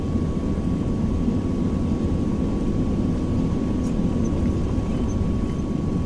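Airplane taxiing on the ground in Microsoft Flight Simulator 2020, on a cargo run from Kalispell to Libby, Montana, with a steady, continuous engine drone and rumble that holds level throughout, heard alone.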